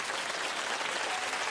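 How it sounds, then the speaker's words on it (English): A television talk show studio audience claps reluctantly: a brief, even wash of scattered applause with no cheering or voices. "they're reluctantly clapping."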